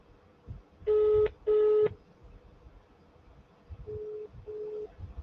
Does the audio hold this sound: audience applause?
no